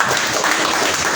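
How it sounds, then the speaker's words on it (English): An audience at a televised entrepreneurship show applauds the program's host, producing a dense, loud wash of clapping that fills the whole short moment. "Please, let's clap for the host of this program."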